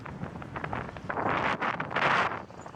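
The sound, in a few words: wind gusts at beach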